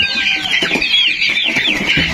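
Chickens cluck steadily and close by on a poultry farm, a dense overlapping chatter of several birds with no one speaking.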